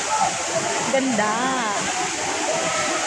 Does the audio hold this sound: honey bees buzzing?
no